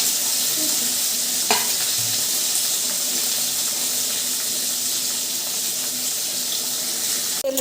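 Continuous loud sizzling and hissing of cauliflower, peas, capsicum and tomato frying in a hot pan, with an occasional clack of a utensil against the pan.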